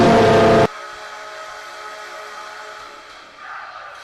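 An NHL hockey goal horn blares loud and harmonically rich for about half a second, then cuts to a quieter, steady sustained tone that lingers with a slight swell near the end.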